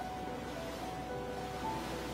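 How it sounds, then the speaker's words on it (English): Ocean waves in a radio drama, a steady low wash of surf with a faint wind-like hiss, soft and distant, continuous without any talk. "A great sight of an ocean."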